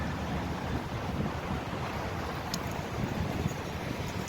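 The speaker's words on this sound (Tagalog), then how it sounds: "ang lakas ng hangin" Strong wind in rainy weather roars steadily across the microphone, a broad, constant rush with low buffeting and no voices.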